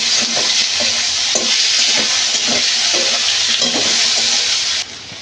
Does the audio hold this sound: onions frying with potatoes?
yes